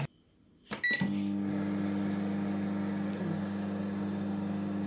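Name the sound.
microwave oven running, cooking potatoes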